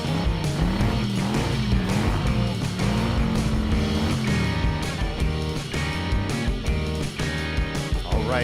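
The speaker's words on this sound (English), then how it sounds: "The race is underway. The police monster truck from the 2nd police station leads the race." Animated monster trucks, including a police monster truck, race in a kids' cartoon, their engines roaring continuously beneath loud, busy music and sound effects.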